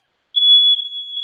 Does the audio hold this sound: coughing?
no